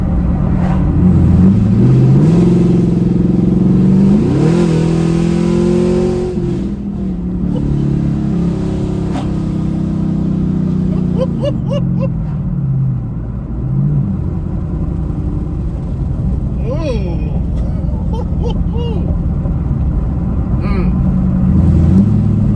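A Chevrolet Camaro SS with an A8 automatic transmission revs hard through an acceleration pull, its engine note climbing and dropping across gear shifts with a deep rumble and road noise, and a voice speaks over parts of it.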